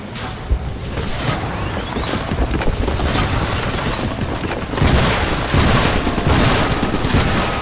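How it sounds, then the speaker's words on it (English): Flak turrets blaze away at enemy aircraft in the video game Iron Brigade, a loud, dense and unbroken barrage of rapid bursts and booms lasting throughout, with no talking. "we've been developing flak turrets for just such an enemy"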